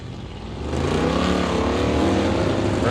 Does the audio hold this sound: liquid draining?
no